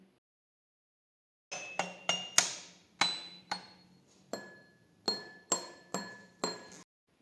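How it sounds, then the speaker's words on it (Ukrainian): A metallophone and drinking glasses are struck one at a time with a stick, giving about eleven bright, ringing clinks and chimes with short decays, spaced irregularly after a moment of silence. "при ударі паличкою кожен з них видає звук"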